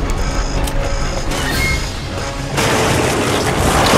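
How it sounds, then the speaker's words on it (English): Incendiary grenade blasts in Resident Evil 5 land as a dense, roaring barrage of booms and crashes, loud and continuous, swelling into a heavier burst partway through with no talk over it. "Incendiary grenades coming in."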